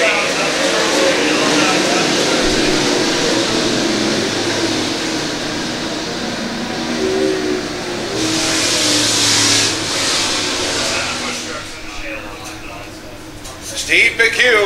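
USMTS modified race cars roar around the dirt track at L A Raceway, a sustained, loud blur of engines under a race announcer's commentary that thins out near the end.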